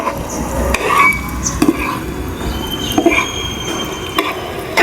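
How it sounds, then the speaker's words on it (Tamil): Akkaravadisal, a Srirangam temple-style sweet rice and ghee dish with cardamom powder just added, is stirred in a pan, producing close, irregular scraping and squeaky utensil strokes against a steady background rumble. "சேர்த்து எல்லாத்தையும் நல்லா கிளறி விடுறோம்."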